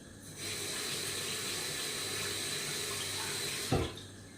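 Peppers rinsed under a running kitchen tap, a steady close splashing stream of water into a sink that starts and runs continuously, ending with a brief bump.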